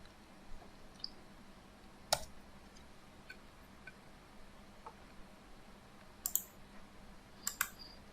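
Computer keys are pressed in a quiet room, with a few isolated sharp clicks and a quick double tap near the end, faint and without talk.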